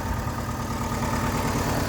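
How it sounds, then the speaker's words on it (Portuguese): A VW Gol engine idles roughly with a heavy shake, a steady low rumbling drone with a throbbing, uneven pulse, close and continuous with no talk. "Motor tremendinho bastante. Na verdade não pode. Tá tremendo muito, né?"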